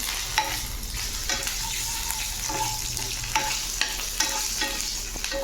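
Paneer curry masala with ginger garlic paste being stirred in a pan, with a steady sizzle under repeated scraping strokes and a few sharp clinks of the spoon against the metal.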